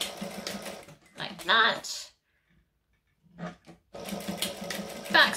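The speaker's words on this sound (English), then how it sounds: "I'm going to stitch a line and then do 1/4 inch of another line." Sewing machine stitching a line with a short back stitch, bursts of rapid needle chatter that stop, pause and start again, with a brief spoken remark in the gap.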